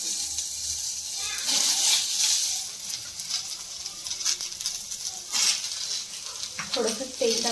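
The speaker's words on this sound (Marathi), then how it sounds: "आता ह्याच्यामध्येच मी कांदा भाजून घेणार आहे" Onion roasting in oil in a pan, heard as a steady soft sizzle with occasional stirring scrapes, a voice faintly talking alongside.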